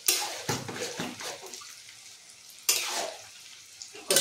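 Chicken chaap meat stirred and cooked in a kadai, heard as bursts of scraping and sizzling that swell and fade, with a quiet pause before another loud stir near the end; no speech.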